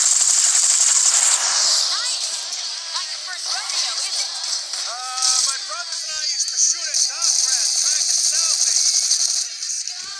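Rapid sustained gunfire from a handgun fired at a pursuing car in the video game Gangstar Vegas, loud and continuous over roaring engine and road noise for about ten seconds.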